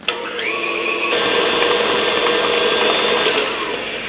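A stand mixer whipping butter and sugar for carrot cake batter, a loud steady motor whir that rises slightly in pitch after starting and runs on continuously.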